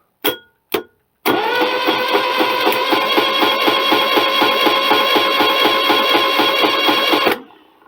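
Generator built from an old induction motor spinning up after two short knocks, then running steadily with a loud, even whirring hum and rhythmic pulsing for about six seconds before cutting off.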